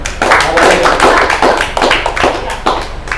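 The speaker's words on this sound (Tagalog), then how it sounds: "Okay, palakpak sa ating Panginoon." A church congregation clapping together at a Sunday service, a loud, dense and steady round of many hands with a slight pulsing rhythm, filling the room.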